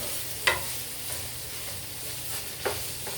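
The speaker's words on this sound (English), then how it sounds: "I have to stir the hamburger." Ground hamburger meat being stirred in a frying pan for goulash, a soft steady sizzle with a few sharp scrapes of the utensil against the pan, no talking.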